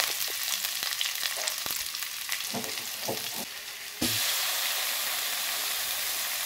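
Ginger and onion frying in a pan, a steady close sizzle with occasional stirring scrapes that grows louder and more continuous near the end.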